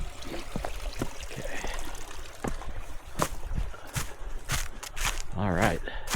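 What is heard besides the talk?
mountain creek flowing (Brown Mountain Creek)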